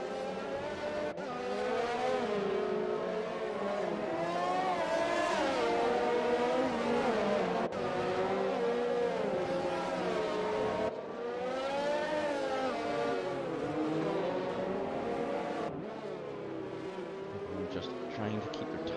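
Race cars in the F1 2020 video game at Baku, running behind the safety car through the castle section: a loud, continuous high-pitched engine whine with wavering pitch, broken by a few brief cuts.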